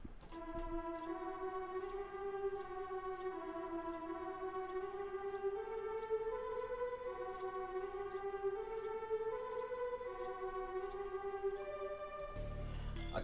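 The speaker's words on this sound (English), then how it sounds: "It's the tremolo string that sounds like this." Tremolo string patch from Expand sustains a slowly rising and falling bowed line with rich overtones, quiet and alone, ending with a brief burst of noise.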